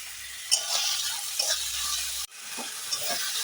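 Masala sautés in a hot pan with a steady sizzle, while a spoon scrapes and stirs through it in several short strokes. The frying is close and fairly loud, and nobody speaks.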